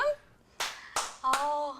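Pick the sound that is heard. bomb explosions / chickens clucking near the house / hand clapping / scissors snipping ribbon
hand clapping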